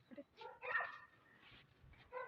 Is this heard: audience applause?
no